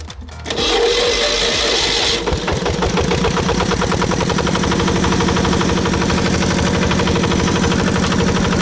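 An engine, apparently the power unit for potato planting, cranks to life after a brief quiet start and then runs loud and steady with a fast, even chugging pulse throughout.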